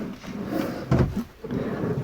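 A normal drawer in a van conversion kitchen sliding open or shut, a short muffled rumble with a soft knock near the middle, fairly close.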